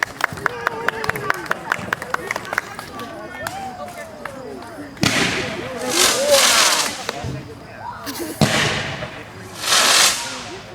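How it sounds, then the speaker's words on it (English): Fireworks at a 150th Canada Day celebration in 2017: a rapid string of sharp crackling pops followed by several loud booming bursts with hissing tails, with a crowd talking and cheering throughout. "Those are like ninja fireworks."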